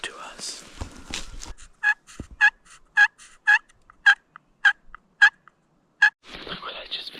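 A hunter's call draws about eight evenly spaced, loud, rattling gobble-like bursts from a Merriam's wild turkey, with hushed voices and rustling before and after the sequence.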